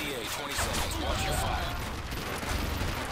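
Dense, continuous gunfire and explosion-like bursts from the video game Modern Warfare 3 during a Survival mission, a busy battle mix with faint voices underneath.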